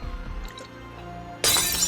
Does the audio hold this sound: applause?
no